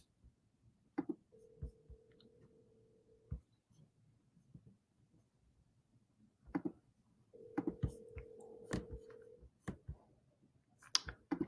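A phone call rings out on the line: two long steady ringback tones separated by a pause, with quiet clicks and taps around them in an otherwise hushed room.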